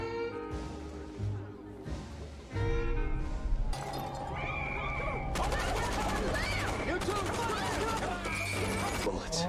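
Gunfire burst erupts partway through a TV drama scene, loud and layered with crashing, chaotic effects and music, continuing densely under the soundtrack.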